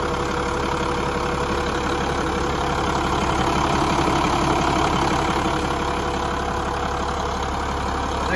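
A big Cummins diesel engine idles in a 1995 Ford F800 crew cab truck, a steady loud low rumble with a faint knocking texture that holds even and close throughout, with no talk.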